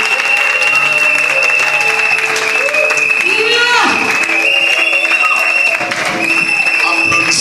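A church congregation breaks into dense, sustained applause that fills the room throughout, loud and continuous. A voice speaks over the clapping now and then.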